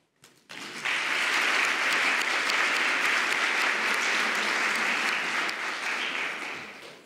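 Audience applause after a talk in a conference session on regulatory issues and ethics, a dense steady clapping that swells in quickly after a brief quiet start and holds for several seconds before tapering slightly.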